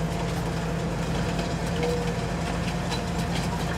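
A train driven in Farming Simulator 19 gives a steady, loud, continuous rumble with a constant engine hum and no pauses, heard alone throughout.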